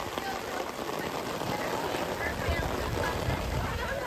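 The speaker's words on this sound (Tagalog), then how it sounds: "ito na yung malakas na ulan" Heavy rain pours steadily onto an open strawberry field, a dense, even hiss of drops close all around with no breaks, with no distinct talk over it.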